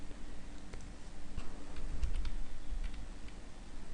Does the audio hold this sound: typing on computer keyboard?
yes